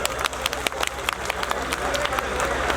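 A live comedy show audience breaks into clapping and crowd noise, a dense patter of applause with cheers and babble running steadily throughout.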